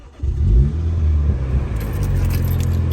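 A 2017 MINI John Cooper Works engine turns over and catches, settling into a steady low idle rumble, with a faint metallic jingle near the start.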